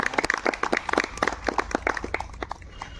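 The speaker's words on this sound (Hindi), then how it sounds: "आईएन के लिए भी जोरदार ताली।" Audience at a community meet-up in Jashpur clapping in a brisk burst of distinct individual claps that thins out and fades toward the end.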